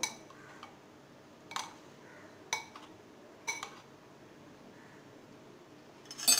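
Tempering stirred into pea dal: a spoon knocks and clinks against the pot a few times at spaced intervals over a low steady background hiss, faint and close, without speech.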